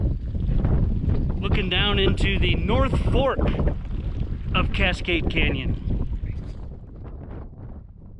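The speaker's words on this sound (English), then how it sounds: "Sorry for the wind" Strong wind buffets the microphone in a constant low roar while hiking on a mountain pass above the North Fork of Cascade Canyon in Grand Teton National Park, with someone talking over it and the gusts easing slightly toward the end.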